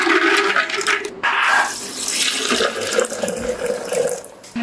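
Water is poured onto peeled almonds before they are ground into a paste, a loud close splashing and gurgling pour that continues with small interruptions.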